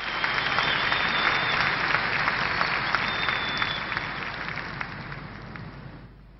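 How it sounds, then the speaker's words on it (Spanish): A church congregation gives warm, sustained applause to welcome a pastor to the platform, dense clapping that gradually tapers off toward the end. "Lo recibimos con un fuerte aplauso."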